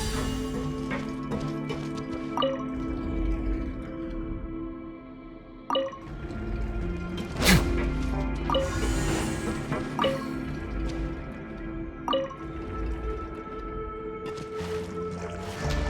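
Rising water inside a mechanism in the Genshin Impact quest area, heard as a low continuous flowing wash with sharp dripping plinks and occasional clacks scattered over it, moderately loud with no voices.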